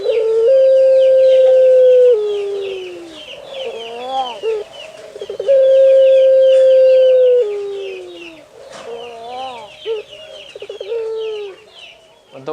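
A puter pelung dove gives long, swinging coos, each a sustained hum that bends down at the end and breaks into short clipped notes, repeated twice close up, with faint fowl clucks and chirps behind.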